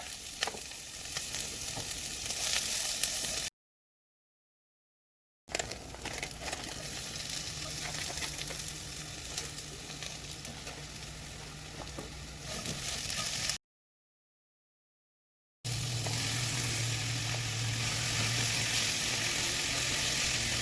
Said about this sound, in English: just saute the onions and the garlic